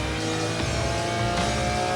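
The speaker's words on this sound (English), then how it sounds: "I'm taking it in 3rd gear, accelerate out, up into 4th," McLaren F1 GTR race car at Le Mans accelerating out of the Arnage corner in third gear and shifting up into fourth, a loud continuous on-board engine roar with a brief dip at the gear change.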